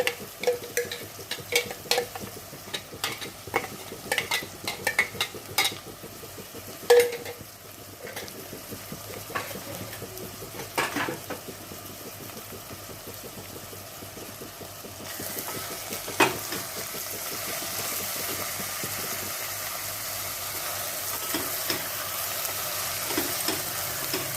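Fried potatoes with onion and garlic are stirred in a pan, with scraping stirs at first, then a steady sizzle that grows fuller and louder toward the end.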